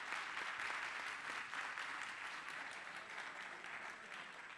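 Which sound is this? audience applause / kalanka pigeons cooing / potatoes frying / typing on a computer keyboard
audience applause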